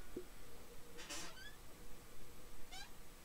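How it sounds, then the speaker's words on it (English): A cat meows twice in a home studio, two short rising calls spaced over a couple of seconds, fairly faint against steady background hiss. "here's my cat"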